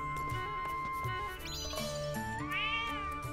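Cat meows from the video game Legend of Zelda: Echoes of Wisdom, a couple of short rising mews heard clearly over steady game music with chiming tones, no talking.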